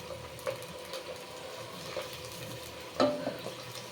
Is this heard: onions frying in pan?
yes